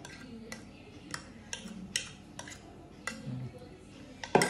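Onion and tomatoes being pounded in a mortar for sambal, a series of sharp, irregular knocking strikes spaced about half a second apart, fairly close and moderately loud.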